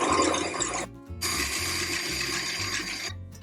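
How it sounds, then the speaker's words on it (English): An electric mixer beats eggs for French meringues, a steady close whirring motor hum that cuts out briefly and then resumes, with no talk over it. "have a grown-up turn the mixer on, and then just beat the eggs for 1 minute"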